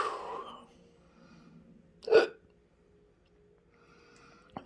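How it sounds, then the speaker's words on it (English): A single sharp hiccup pops out of near silence, brief and close, with a faint breathy sound before it. "hiccuping, clearing my throat"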